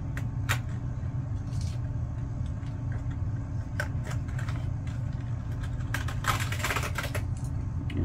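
Keys on a computer keyboard are pressed in scattered light clicks over a steady low hum, close and fairly soft, with no talking.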